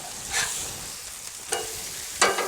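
Onion-topped burgers on a Blackstone griddle are flipped in three quick spatula scrapes, each followed by a brief flare of sizzle over a steady background hiss.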